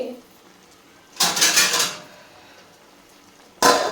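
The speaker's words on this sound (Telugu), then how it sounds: "ఇదిగోండి మూత పెట్టి ఒక పదిహేను నిమిషాలు మగ్గాలండి" A lid set onto a cooking pot of chicken kebab and drumstick curry, two short bright metallic clatters a couple of seconds apart, loud and close, with a quiet pause between.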